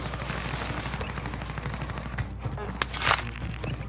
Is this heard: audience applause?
no